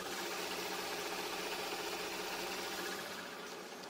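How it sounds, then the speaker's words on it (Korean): Hyundai Equus VS380 luxury sedan engine idling with the hood open, a steady, smooth and fairly quiet hum that holds even and continuous throughout, fading slightly at the very end, with no talking. "엔진 소음 먼저 들려드리면은"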